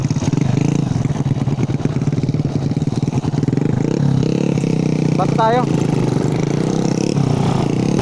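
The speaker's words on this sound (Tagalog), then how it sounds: "Nakachamba yung motor ko, pero yung second gear ko parang may issue ah" A Suzuki Raider 150 motorcycle engine runs loudly throughout, revving unevenly, while someone speaks briefly over it.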